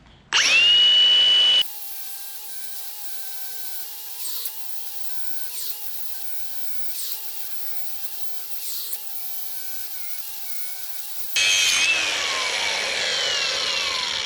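A power tool cuts through the steel casing of a Kubota BX tractor oil filter, starting with a loud burst, then a long, steady, high-pitched grinding with small bumps, before ending in another loud surge.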